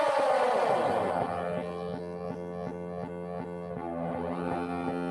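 Make Noise Strega synthesizer drone whose time circuit is modulated by an oscillator, giving a sustained tonal hum marked by steady, evenly spaced little bumps pulsing throughout, alone with no talk.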